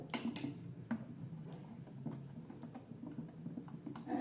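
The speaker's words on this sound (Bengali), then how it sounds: "দিয়ে ভালো করে লবণ আর ধনেপাতাটা মিশিয়ে নেব।" Salt and chopped coriander being stirred into moong dal dosa batter, heard as close, irregular light tapping and clicking against the bowl, steady and moderately quiet throughout with no voices.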